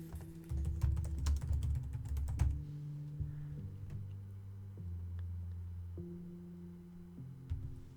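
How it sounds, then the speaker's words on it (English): Rapid typing on a computer keyboard as a group name is entered into a chat: a quick flurry of clicks over the first few seconds, then sparse keystrokes over a low, steady hum. "I'm trying to type it, okay?"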